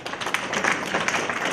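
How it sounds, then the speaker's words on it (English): An audience at a community center event in Providence breaks into steady applause, a dense wash of clapping hands sustained throughout at moderate loudness. "is that deadheads applauding, or is that applause to the press"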